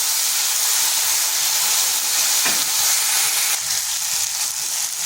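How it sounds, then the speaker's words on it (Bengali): Potatoes fry in an open pan with no lid, giving a steady, close hiss of sizzling oil throughout, with a brief scrape or stir midway and no voices. "এখানে আলুটা ঢাকা ছাড়াই ভেজে নিচ্ছি।"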